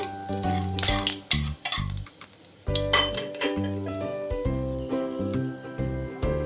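Bay leaf, dry red chili and panch phoron frying in hot mustard oil in a kitchen pan, a close, steady sizzle with brief stirring clinks and a few sharper spitting bursts, no talk.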